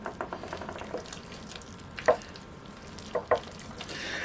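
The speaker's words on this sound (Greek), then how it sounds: "Ανακατεύουμε καλά" A spoon stirring a thick homemade tyrokafteri cheese dip with olive oil and smoked paprika, giving soft wet scraping strokes in a steady rhythm with a few louder clacks against the bowl.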